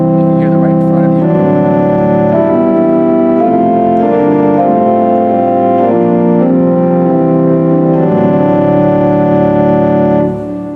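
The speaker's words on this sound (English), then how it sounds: "in the facade pipes here, which are in the front, it would be the great 8-foot principal" Front facade pipes of a pipe organ's great 8-foot principal stop play a slow sequence of sustained, full-bodied notes and chords, loud and close, with no talking, before fading at the end.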